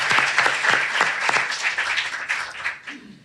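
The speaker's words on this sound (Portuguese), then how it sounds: "Uma salva de palmas" A brief round of applause on a podcast, several close, sharp hand claps in a quick irregular burst that thins out and fades after about three seconds.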